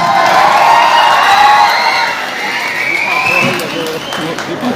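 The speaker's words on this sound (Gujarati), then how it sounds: "જોરદાર તાળીઓથી બ્રિજરાજભાઈને વધાવીએ" A crowd at a political rally applauds and cheers loudly and continuously, close by, with shouts mixed into the dense clapping.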